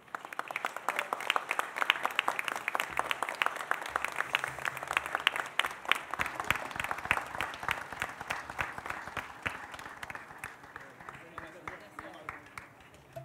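An audience applauds at a recognition ceremony held by the Chamber of Deputies honouring hospital workers, many hands clapping in a sustained, lively wave with crowd murmur underneath.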